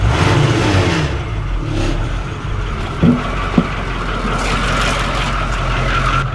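A Ford COE truck engine with a 4-inch exhaust revs from idle up toward 1,500 rpm a couple of times, a steady loud rumble with mild swells and no speech.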